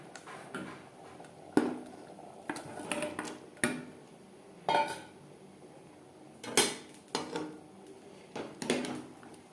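Fried potatoes being mixed into mutton biryani gravy in a pot, with a spoon knocking against the metal in scattered, irregular scrapes and clunks set against a quiet background.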